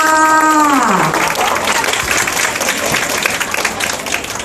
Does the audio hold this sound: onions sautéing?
no